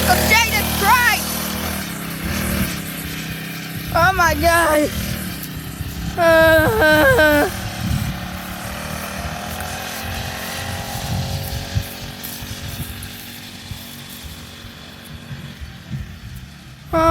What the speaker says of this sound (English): It's the motorcycle